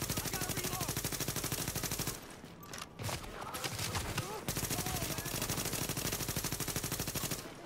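Rapid automatic gunfire in the video game The Division, a continuous chattering burst that drops out briefly midway, then resumes just as steadily.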